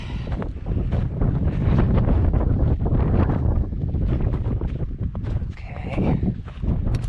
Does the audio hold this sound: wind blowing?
yes